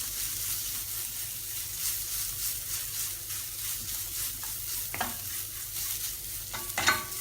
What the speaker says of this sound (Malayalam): എന്നിട്ട് ഇത് നന്നായിട്ട് ഒന്ന് മിക്സ് ചെയ്ത് കൊടുക്കാം